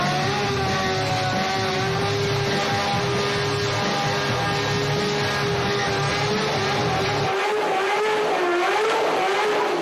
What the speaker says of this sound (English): Ryan Dunn gets a motorcycle, turns it on in Bam's house, and just revs the engine.